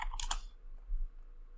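A few quick computer keyboard key presses, close and crisp clicks in a short burst at the start, then quiet.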